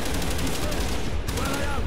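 Gunfire in Call of Duty Black Ops campaign combat, a loud continuous barrage of overlapping shots with a faint voice beneath.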